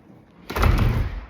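A very tall front door of a house swings open with a short thud and a broad whoosh of movement, fairly close and loud, then dies away.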